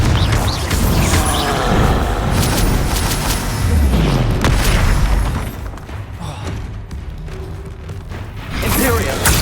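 Blasting-spell explosions in Hogwarts Legacy, a fantasy video game, with several loud booms and crashes over a dense, busy combat mix, followed by quieter rumbling.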